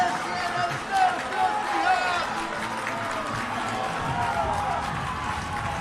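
A crowd roars at a girls' varsity high school volleyball rivalry match in a gym, with sustained cheering, shouts and clapping while a commentator talks over the noise.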